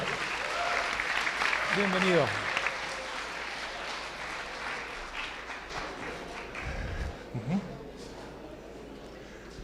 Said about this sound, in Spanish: Esas palmas para recibirlo.